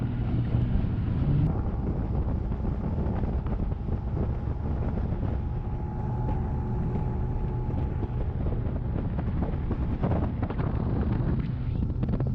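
A boat on Bull Shoals Lake is underway, its engine a steady low drone mixed with wind rushing past the microphone, continuous and fairly even throughout.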